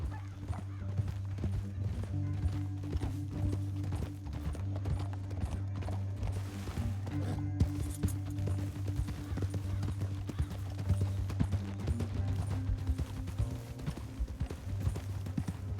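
Steady clip-clop of horse hooves at a trot in Red Dead Redemption 2, rhythmic and continuous over a low rumbling background, with game-like sound effects.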